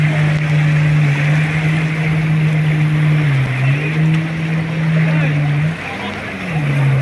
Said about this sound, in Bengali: এরই মাঝে আরও দুটি স্পিড বোট যেন তুফানের মতন ছুটে আসতেছে